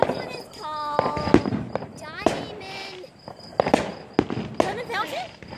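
Diamond cutter fireworks burst in a run of sharp cracks and crackling pops, with whistling streaks between them, while people talk excitedly nearby throughout.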